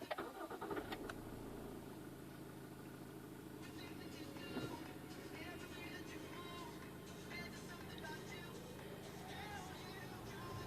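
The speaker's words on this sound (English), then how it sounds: "To start the engine, put your foot on the brake." A 2013 Toyota RAV4 engine cranks and fires up at the start, then settles into a steady, fairly quiet idle that hums on for several seconds.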